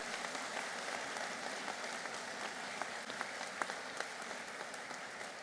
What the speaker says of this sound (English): Let's give them a round of applause in advance